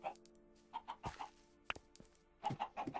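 Chickens clucking on an automatic chicken farm in Minecraft Switch Edition multiplayer survival: a string of short, close, regularly spaced clucks and pecking taps, fairly quiet, with a sharp click midway.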